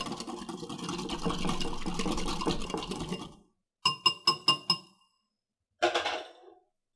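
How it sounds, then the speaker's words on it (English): A whisk blends salad dressing with kosher salt in a bowl, giving a steady, close scraping swirl for a few seconds, then a quick series of sharp metallic clinks and one last clatter. "We're going to whisk this together until it's completely incorporated."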